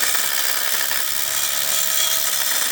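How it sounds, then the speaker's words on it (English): Power drill driving 5/8 inch Titan screw anchors through a Simpson ABU66 post base on a porch rebuild at an 1860s cottage, a steady loud whir with grinding texture that continues without a break. "So just drill those in"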